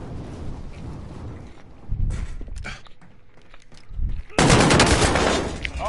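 Gunfire in Call of Duty Warzone: bursts of automatic shots come in clusters, then a dense, loud barrage near the end, with quieter stretches between.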